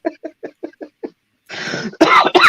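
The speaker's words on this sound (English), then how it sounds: "I'll start myself off coughing now" A person coughs in a rapid run of seven short, sharp bursts, pauses briefly, then lets out a couple of harsher, longer hacking coughs, close and loud indoors.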